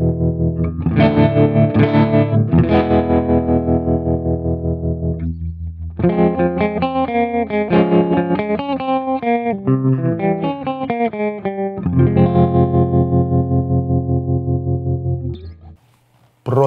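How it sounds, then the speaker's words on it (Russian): Electric guitar chords played through a tremolo effect with distortion, the volume pulsing rapidly as several sustained chords ring out in turn, loud and close with no talk. "Следующий эффект, настоящий друг серфера, это тремоло. Тремоло изменяет громкость сигнала."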